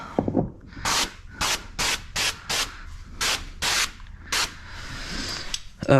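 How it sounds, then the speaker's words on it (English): A microfiber cloth wipes down a car trim panel during back-glass tinting on a 2022-2023 Honda HR-V, with about ten rhythmic, close rubbing strokes of even loudness over a steady background hiss. "Go ahead and wipe this trim panel down."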